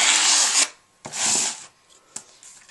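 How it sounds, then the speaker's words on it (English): A plastic card scraped across canvas to spread acrylic paint for a wall art piece, giving two long, close rasping strokes followed by a short faint scrape, with no talking. "Then scrape it with the other card."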